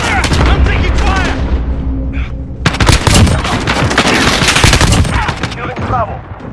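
Rapid bursts of automatic gunfire and scattered shots fill a multiplayer video game battle over objectives, loud and dense throughout, with in-game callouts and voices mixed under the shooting.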